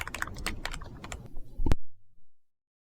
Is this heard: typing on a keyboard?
yes